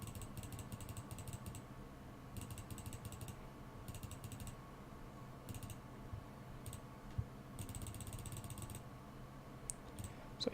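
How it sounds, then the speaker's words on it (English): Rapid bursts of computer keyboard and mouse clicking while playing the card game Magic online, coming in irregular clusters separated by short pauses over a steady low room hum, with no talking. "So here's just a lot of clicking."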